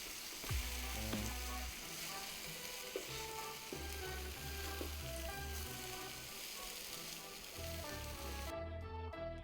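French toast fries in a pan after being flipped, a steady soft sizzle and crackle running throughout with quiet background music tones beneath it.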